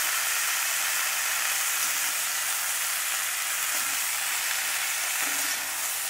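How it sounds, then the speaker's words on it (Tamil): Cauliflower frying in hot oil on a low simmer, a steady, dense sizzle that holds loud and even throughout with only faint stirring bumps and no talk. "அப்படியே இத எண்ணெயிலே அப்படியே ஃப்ரை பண்ண விடணும்"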